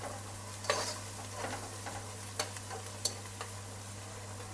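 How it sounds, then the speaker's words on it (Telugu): Ginger garlic paste is stirred into onions frying in a pan, with a steady low sizzle and a few sharp spoon scrapes against the metal, no voices. "దీంట్లోకి అల్లం వెల్లుల్లి పేస్ట్ వేసుకోవాలి ఒక రెండు స్పూన్లు ఉంటుంది ఇది ఇలా కలుపుకోవాలి"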